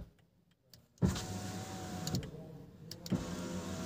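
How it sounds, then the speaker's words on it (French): Close up, the electric window motor of a 2023 DS Automobiles DS9 E-Tense whirs in several short runs, each starting with a sharp click. "Voilà, c'est pour ouvrir les vitres."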